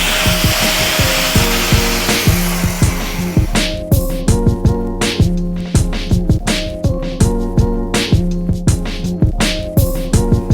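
Steel cab mount plates for a Ford are cut out with a power tool, a close, loud, harsh grinding rasp that pulses in steady rhythmic strokes after an initial continuous stretch of noisy cutting.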